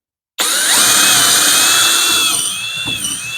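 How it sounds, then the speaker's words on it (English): A handheld power drill for woodworking whines up from silence at full speed, holding a steady high-pitched motor tone close to the mic before easing slightly lower near the end. "Now that I've demonstrated how to drill"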